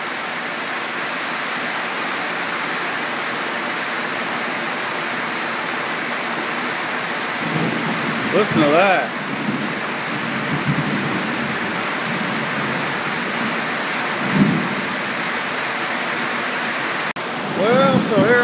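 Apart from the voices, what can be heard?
heavy rain pouring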